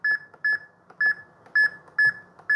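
Keypad beeps from a KIS-8630QN wireless card terminal as a phone number is typed in, six short, clear electronic tones in an uneven rhythm, close by, with faint soft clicks between them and no speech.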